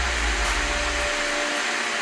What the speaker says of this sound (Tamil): பாருங்கள், ஸ்டீம் வருது.